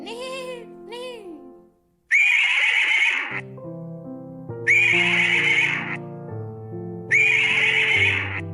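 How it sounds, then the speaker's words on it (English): Three loud, close horse whinnies ring out in turn, each a shrill, quavering call, with a tonal music bed running underneath and a short whistled tone at the start. "What does horse says? Neigh, neigh, neigh, neigh."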